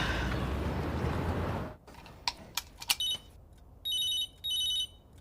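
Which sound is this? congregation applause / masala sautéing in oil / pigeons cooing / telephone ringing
telephone ringing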